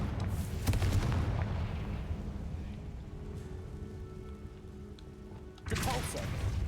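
Confringo fire spell blast from Hogwarts Legacy, a booming fiery impact that rumbles loudly through the first seconds and then a second burst near the end, set over continuous game background noise.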